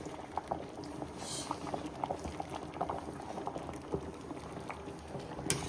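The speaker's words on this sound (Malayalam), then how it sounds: "അപ്പോൾ മരിച്ചിനി തിളച്ചിട്ടുണ്ട്" A pot of water with tapioca bubbles at a steady boil, a soft continuous gurgling and popping heard close up.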